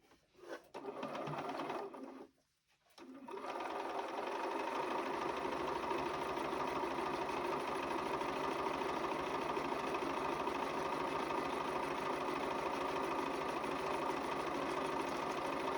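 A Bernina sewing machine runs steadily while top stitching a seam on a Grinch Christmas pouch, with a couple of short starts and a pause before a long, continuous whirring hum close by.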